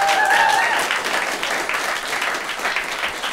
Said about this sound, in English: Those of you who think so, clap.